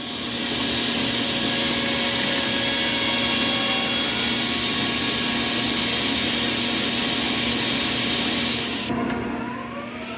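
A Shopsmith table saw hums steadily at speed while its blade crosscuts a board, the cutting noise rising for a few seconds, then the motor keeps running alone before spinning down at the end.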